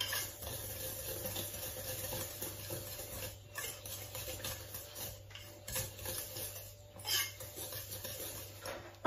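A whisk scrapes and rasps around a bowl as salt and fruity pepper are stirred into a buckwheat and Parmesan shortbread mixture, with soft irregular scratching strokes, fairly quiet and close, and no talking.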